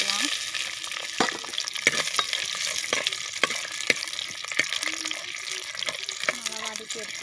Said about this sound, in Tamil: நல்லா வதக்கி எடுத்துக்கோங்க.